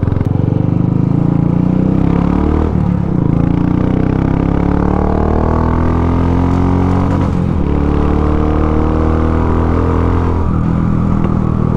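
A fully modified Royal Enfield Classic 350 motorcycle with an aftermarket exhaust revs loudly and continuously, its deep rumble rising and falling in pitch through several throttle blips, close up with no talking.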